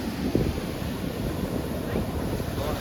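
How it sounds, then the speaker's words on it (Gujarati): A stormy sea churns in a steady, unbroken roar of crashing waves and strong wind buffeting the microphone, loud and continuous with no talking. "મિત્રો અત્યારે દરિયો ફૂલ તોફાન ઉધાન થઈ ગયો"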